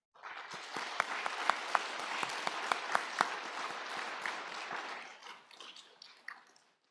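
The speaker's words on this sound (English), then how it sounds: "Let's give Professor Hinton another round of applause" Steady applause from a sizable audience at an AI safety forum of a 2023 Beijing AI conference, with a few sharper individual claps standing out, gradually thinning and fading out at the end.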